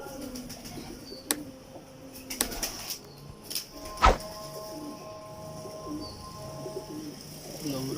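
Heera Lal pigeons cooing softly in a loft, with scattered knocks and rustles and one sharper thud partway through, against low background noise.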